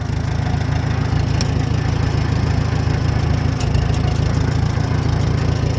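An antique tractor engine running while the machine backs up, a steady, loud low chugging rumble with a regular pulsing beat and no letup, heard close with no voices.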